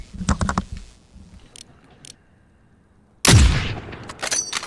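Video game gunfire starts with a quick rattle of shots, then after a quiet gap one loud close blast rings out and decays, followed by a few more scattered shots.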